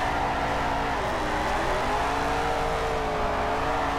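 Camaro drifting through a corner in the Virtual Formula Drift racing game at the Streets of Long Beach circuit, its engine droning steadily with shifting revs throughout, loud and continuous with no talk.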